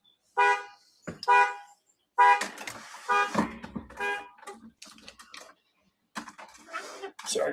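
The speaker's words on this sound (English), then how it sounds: "sorry for my neighbor's car alarm" A neighbor's car alarm going off outside, a harsh repeating tonal blare in separate bursts that switch between patterns, fairly close and loud with silent gaps between them.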